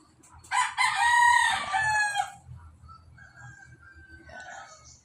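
A young gamecock rooster lets out one loud, drawn-out crow nearby. A fainter, shorter crow follows, with soft background clucking and noise underneath.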